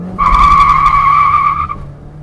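Tires squeal in a loud, sustained skid of about a second and a half as a car with a 1.6 engine brakes hard on dry asphalt during a test drive.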